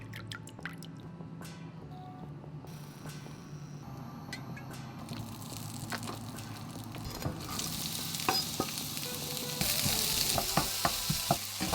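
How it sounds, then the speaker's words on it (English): Chicken and vegetables stir-fry in a hot pan, with a steady sizzle that grows louder and brighter toward the end, plus close scrapes and stirring clatter throughout. "stir fry it all together"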